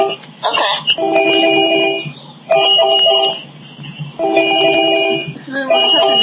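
A telephone rings in repeated electronic bursts with short gaps between them, loud and close, during an online group video chat.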